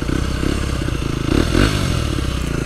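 A Derbi 125cc moped engine runs close by with a buzzy, pulsing two-wheeler drone that swells briefly in a short rev midway, alongside some clatter and scraping.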